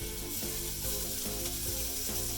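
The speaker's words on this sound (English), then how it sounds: "Sizzle, sizzle." Shrimp fry in hot grease in a home kitchen, giving a steady, dense crackling sizzle at close range with a faint rhythmic mechanical ticking underneath and no talk.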